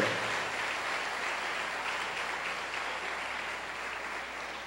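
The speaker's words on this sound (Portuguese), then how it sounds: "Quem quer aplaudir a Deus por essa genial criação?" A church congregation applauds during a Sunday service, a broad continuous wash of clapping that fades slightly toward the end, with no speech on top.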